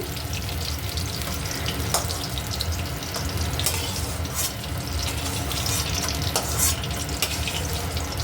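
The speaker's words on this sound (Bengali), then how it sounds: "দেখুন ফুলকপিগুলো আমার ভাজা হয়ে গেছে" Cauliflower florets frying in a pan for a Bengali bhetki fish and cauliflower curry, giving a steady, dense sizzle throughout with a few sharper crackles and light scraping.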